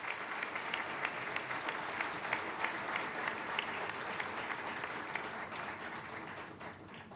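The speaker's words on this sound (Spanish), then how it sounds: "Y vamos a decirle adiós con otro aplauso, por favor." Audience applause at an education conference, dense and steady clapping filling the room throughout, easing slightly toward the end.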